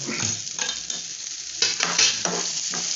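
Garlic and coconut sautéing in a pan for a garlic chutney, a steady close sizzle with scraping stirs throughout and a louder burst of frying partway through.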